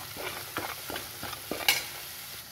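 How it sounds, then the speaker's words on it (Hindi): Spices and kasuri methi roasting in a pan for besan gatte curry, a rhythmic series of spatula stirs and scrapes over a low sizzle, ending with a bright metallic tap, no voices. "और इसको हम मिक्स करके अच्छे से भून लेंगे"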